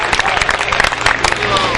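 Loud, dense clapping from the audience at a kavi sammelan, a Hindi poetry gathering, filling the whole short stretch with steady broadband crackle and little sign of talk.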